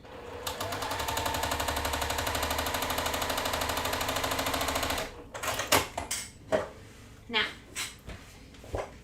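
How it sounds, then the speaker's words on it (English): A sewing machine stitches quilt pieces a quarter inch from a drawn line, running in a fast, even mechanical rattle for about five seconds before stopping, followed by several louder clunks of fabric and machine handling. "now we're going to sew a 1/4 inch away from that drawn line"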